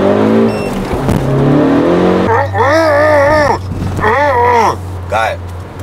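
Ford Focus ST with a tuned exhaust and software remap accelerating on boost, engine note climbing and pulling hard up close in a roaring, rising sweep, with a voice heard at the start.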